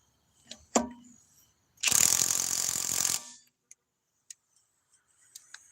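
A power tool tightens a bolt in one loud, dense burst lasting just over a second, with a few sharp clicks and ticks before and after in otherwise quiet surroundings.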